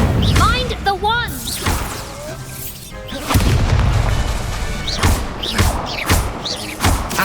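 Incendio fire spells cast during combat in Hogwarts Legacy: repeated loud whooshing bursts and heavy thumps, with spoken spell calls and chirping effects between the blasts.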